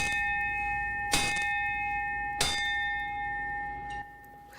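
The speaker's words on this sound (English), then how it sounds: "A bell ringing ceremony in honor of Jack Schuberth, John P. Gleason, and Henry R. Dyer" A ceremonial bell rings at a Chicago Fire Department memorial for firefighters killed in a deadly fire, with two sharp, evenly spaced strikes whose long metallic tones ring on, followed by a fainter third strike.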